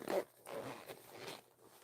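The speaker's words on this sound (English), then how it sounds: "And I did a red zipper, a red zipper pull." A zipper with a red zipper pull on a bag or case being tugged in short, scratchy bursts, close by and fairly quiet, with brief pauses between pulls.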